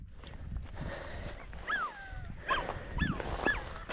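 Podenco hunting dogs chasing a rabbit outdoors, with faint whimpers and yips rising and falling several times over a soft background rustle.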